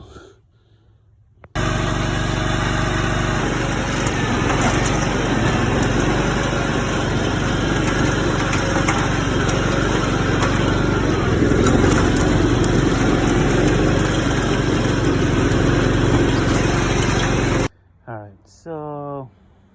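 A John Deere lawn tractor's small engine driving a 30-inch mechanical rototiller roars steadily for a long stretch, loud and close with a rough mechanical churn, then cuts off and a voice speaks briefly.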